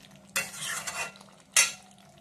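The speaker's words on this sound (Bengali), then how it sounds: "এখানে বসিয়েছি আলু পটলের ডালনা" Potato and pointed gourd curry (aloo potoler dalna) being stirred in a cooking pot, with a scraping, sizzling sweep of about a second followed by a shorter, sharper scrape, close and clear.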